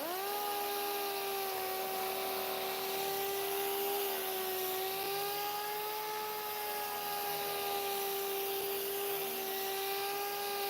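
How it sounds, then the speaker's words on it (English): A steady mechanical whine from a power sander working a car body panel runs throughout, a constant droning hum with bright harmonics, close by and continuous. "Just sand it flat."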